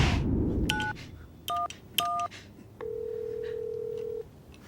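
Telephone keypad tones dialing 911, several short two-tone beeps in quick succession followed by one longer sustained tone, heard alone and close in a quiet room.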